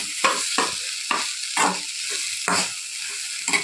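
Vegetable curry with tomatoes is stirred in a frying pan: a series of irregular scraping strokes of the spoon against the pan over a low, continuous sizzle, close and fairly loud, with no voices.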